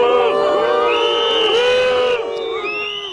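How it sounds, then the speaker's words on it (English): A loud crowd of factory workers whose jobs are under threat boos and shouts at Macron, with many voices jeering together close by in a sustained, dense roar that eases slightly toward the end. "Factory workers whose jobs are under threat booed Mr. Macron"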